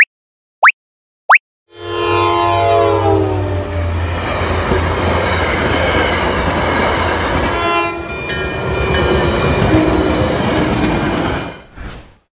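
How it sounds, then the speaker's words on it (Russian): An electric train passes close by: a rising horn-like tone opens into a loud, steady mechanical rumble and hiss that fades out at the end. "Это фиолетовая электричка."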